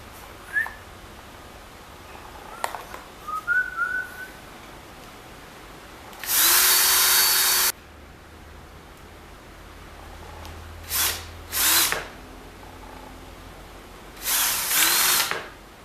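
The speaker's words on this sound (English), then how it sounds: "I'm going to glue and screw this shit together to give me a rectangle." Power drill driving screws into pallet wood in a shop, three loud bursts: one long run of about a second, then two short pulses and a final longer one, with quiet gaps and faint light clattering between.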